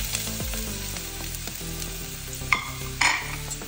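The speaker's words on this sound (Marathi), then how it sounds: "कांदो बरो ब्रावन जायसर तळसून घेवपाक जाय" Chopped onion frying in a couple of spoons of coconut oil for a Goan mackerel curry, a steady close sizzle with two sharper clattering bursts near the end as the pan is stirred.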